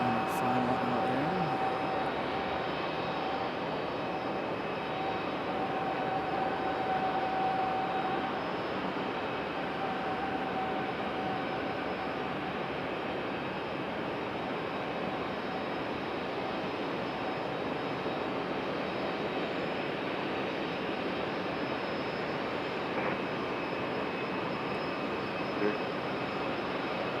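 An airplane on final approach into Raleigh-Durham International makes a continuous distant jet rumble and hiss, fairly faint and level, with a high tone fading early and no talk over it.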